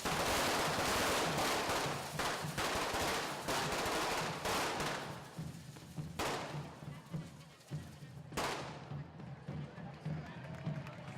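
Festival firework rockets go off in a dense, fast crackling barrage, loud and continuous at first, then thinning into scattered bangs and a final sharp burst, with crowd noise beneath.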